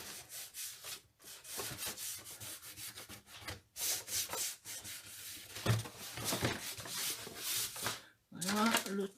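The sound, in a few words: rubbing a damp sponge gently on cardboard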